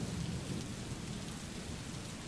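Steady heavy rain falls during a Bengaluru downpour near a busy market street, a continuous dense hiss with low rumbling underneath, unbroken and without voices.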